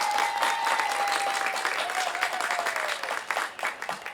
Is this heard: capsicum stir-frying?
no